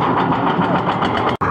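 A Yellow River ferry boat's engine crossing between Shanxi and Shaanxi drones steadily and loudly up close, a continuous rumbling throb with a brief cutout near the end.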